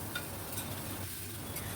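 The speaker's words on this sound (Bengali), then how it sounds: "এবার আমি আদা আর কাঁচা লঙ্কার পেস্ট দিয়ে দেব" Ginger and green chili paste frying in a pan for pointed gourd korma, a faint steady sizzle with light stirring scrapes, no voices.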